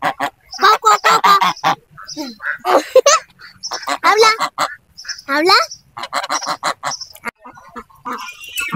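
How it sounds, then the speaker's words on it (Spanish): Ducks in a city park at Fuentes Brotantes, Tlalpan, Mexico City give loud, repeated honking quacks close by, mixed with a person talking to them. "Si caminamos, ahí vienen los patos tras de nosotros, miren."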